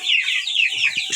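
A brooding hen that has hatched chicks gives a quick series of soft, close clucks, a brief farmyard sound with no talking.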